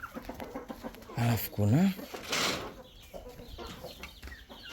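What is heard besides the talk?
chicken clucking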